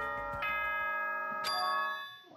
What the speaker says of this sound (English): Was that a school bell just now?